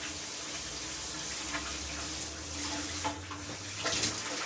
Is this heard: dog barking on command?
no